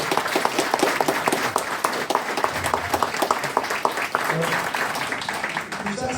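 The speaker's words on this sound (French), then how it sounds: "je crois qu'on peut l'applaudir." An audience applauds a presenter at a public meeting on a proposed PSG stadium in Massy, with dense, steady clapping from many hands sustained throughout, and speech-like chatter audible beneath it.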